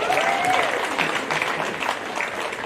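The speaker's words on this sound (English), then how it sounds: "Give another round of applause for our dancers all the way from beautiful Tokelauan" Audience applause for dancers from Tokelau at an Australia Day awards night, a dense, steady wash of clapping throughout, with faint crowd voices underneath.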